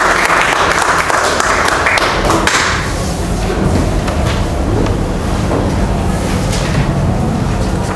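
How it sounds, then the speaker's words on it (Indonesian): A group in an Indonesian classroom teaching-performance exam claps loudly and steadily throughout, a dense, continuous round of applause with no voices over it. "Aplaus buat mereka."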